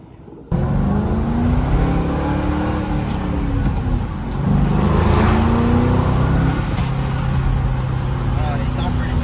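A 2005-2009 Mustang GT fitted with a Corsa Extreme axle-back exhaust rumbles steadily at idle and light revs, a deep continuous drone close by with a brief rise in pitch midway.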